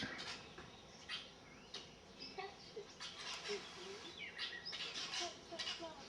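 Busy weaver birds chirping and twittering close by at a seed feeder, quick overlapping calls in bursts, with faint insect-like buzzing underneath.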